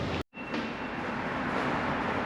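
A subway train at Seokchon station gives a steady, moderately loud rumble with a hiss, broken only by a brief dropout near the start.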